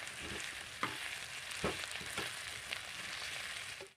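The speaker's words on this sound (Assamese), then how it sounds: "মই কাটি থোৱা পিঁয়াজখিনি লগতে দি দিম আৰু এইখিনি ভালকৈ লৰাই ল'ম" Chopped onions are stirred and fried in a pan for a Spanish omelette, giving a constant soft sizzle broken by several short scraping strokes of the spoon, with no talking.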